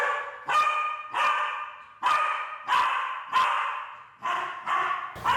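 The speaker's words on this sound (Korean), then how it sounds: "앉았다가 갑자기 짖습니다." A dog barks in a rapid series of about eight loud, close barks with short gaps between them, each bark bright and sharp, no voices over it.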